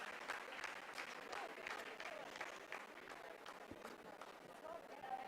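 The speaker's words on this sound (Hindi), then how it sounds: "जी हाँ, आप इस तालियों के गड़गड़ाहट को सुन सकते हैं" Applause from scientists in ISRO mission control during a lunar lander descent, a moderate scattered clapping heard under a commentator's ongoing voice.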